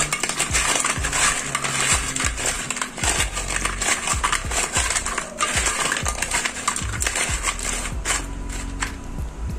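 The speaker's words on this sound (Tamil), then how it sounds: "சட்டியில் போட்டு நல்லா உரசினேன்னா நல்லா க்ளீன் ஆகிடும்." Crab pieces are rubbed with rock salt and turmeric in a pot, giving a dense run of gritty scraping and rattling shell clatter in quick uneven bursts, close and loud, continuous throughout.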